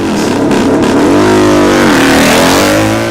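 A BMW R50 racing motorcycle roars loud and close, its engine revving continuously with the pitch rising and falling as it speeds along.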